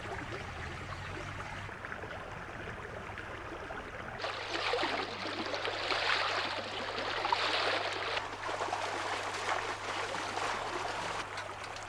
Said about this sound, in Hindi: धार की आवाज, पानी पानी